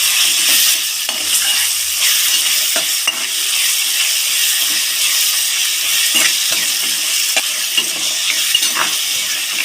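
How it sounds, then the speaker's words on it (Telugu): Grated raw green mango and salt being mixed in a pan, a steady broadband stirring scrape over a soft sizzle, with faint spoon clicks throughout and no voices. "ఒకసారి బాగా కలిపేసుకుందాం"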